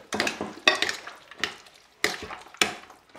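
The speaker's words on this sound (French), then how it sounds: "Et on mélange ça pendant une petite minute." A tomato mixture is stirred in a pan, with a series of distinct scraping and clacking strokes at irregular intervals over a soft cooking sizzle, close and fairly loud.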